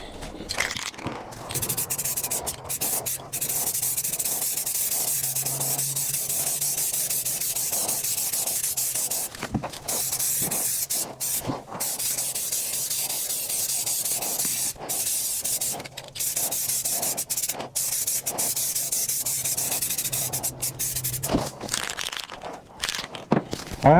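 Spray paint hisses onto the bed of a 1993 GMC Sierra SLE pickup truck during the second coat, a close, steady hiss held for long stretches with a few short breaks.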